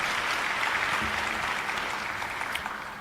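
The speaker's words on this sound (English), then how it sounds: "Can we all put our hands together for this summit?" An audience at a health summit opening session gives sustained applause, a broad steady wash of many hands clapping at once in a large hall.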